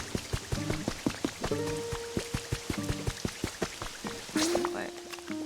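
Rain in the Pokemon Pokopia video game, a soft patter of drops pattering on surfaces under chiming game tones and a speaking voice, fairly faint and continuous.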